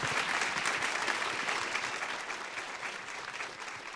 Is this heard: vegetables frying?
no